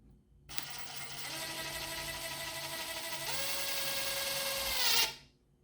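A power drill spins up and drives a screw into wood, one continuous whine that steps up in pitch partway through, then cuts off abruptly, close and clear with no talking.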